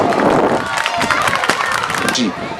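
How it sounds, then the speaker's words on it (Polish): A crowd of children at a Children's Day event in Wieruszów claps and cheers loudly, a dense wash of applause mixed with shouting voices that eases toward the end. "Wielkie brawa dla was!"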